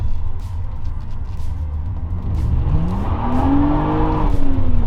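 A 2006 BMW 130i hatchback with the M package and six-speed manual, lacking a limited slip differential, drives along with its engine note climbing steadily under a constant roar of road and tire noise.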